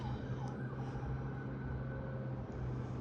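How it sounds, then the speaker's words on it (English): Emergency vehicle sirens wailing down the block in a city street, distant and faint, a continuous muffled tone over low traffic rumble. "It's like every day now with these fucking sirens"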